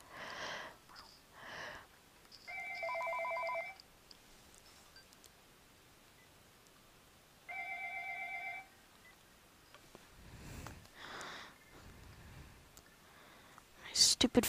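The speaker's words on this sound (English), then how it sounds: "Stupid phone keeps ringing." A telephone rings twice in short electronic trilling bursts a few seconds apart, faint and thin, with quiet clicks, sniffs and low mumbled speech around it.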